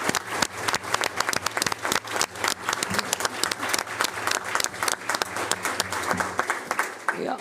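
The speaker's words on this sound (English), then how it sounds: "so we can give you a round of applause" At a school board ceremony, a room applauds the families of student board members with a sustained round of dense, lively clapping from a medium-sized crowd, steady throughout with faint murmurs beneath.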